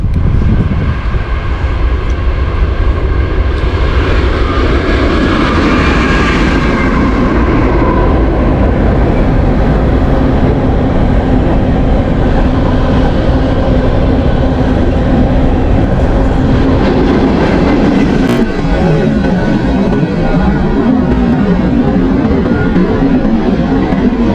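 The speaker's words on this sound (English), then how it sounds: "Here comes a train. It's gonna be very loud." A train roars past at close range, a loud continuous rumble and rattle of wheels that fills the whole stretch without letting up.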